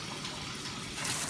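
Steady hiss of running tap water, broadband and continuous, growing slightly louder near the end.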